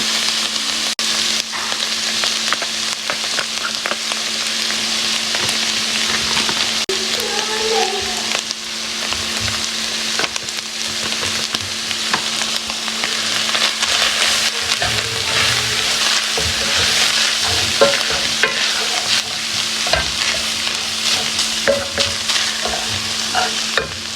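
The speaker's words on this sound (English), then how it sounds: "my beef is browning up nicely" Ground beef browns in a pot with ranch and taco seasoning, giving a loud, continuous sizzle with crackling spatter and occasional scraping stirs. A faint voice is heard briefly partway through.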